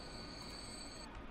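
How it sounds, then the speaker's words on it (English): A food-loading train leaving in the Transport Fever video game gives a faint steady rumble with a thin high wheel squeal that holds, then cuts off near the end of the short span. "a train that loads food is leaving"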